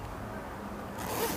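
A zipper sewn into fabric with a zipper foot on an old domestic Butterfly sewing machine is pulled once, a quick close rasp after a quiet pause.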